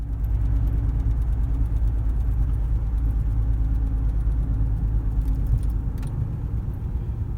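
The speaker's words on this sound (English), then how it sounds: "So rumbling sound, car shaking, and it kind of changes when you step on the brakes." A car with a sticking brake caliper rumbles steadily while driving, a loud, continuous low-pitched drone with road noise and a slight change near the end.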